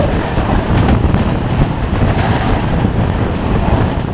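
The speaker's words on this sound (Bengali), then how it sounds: "উল্টো দিক থেকে রাজধানী আসছে নিউ দিল্লি ডিব্রুগড় 20504 রাজধানী এক্সপ্রেস।" Rajdhani Express passing the Kumbha Express at speed on Indian railway lines, a loud continuous rumble and rush with faint clickety-clack, close and steady throughout.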